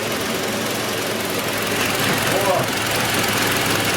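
Toyota Land Cruiser Prado 120 engine idling steadily up close, a continuous mechanical hum with faint knocking texture, with a brief voice in the clip.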